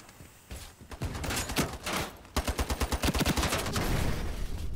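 SCAR rifle fire in the shooter Ironsight: scattered shots at first, then a fast, loud, evenly spaced burst of rounds that runs to the end.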